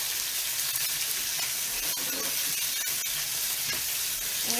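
Chicken fries in a pan over medium-high heat for Chicken Marsala, with a loud, steady sizzle and hiss and a few brief stirring scrapes, close up with no talking.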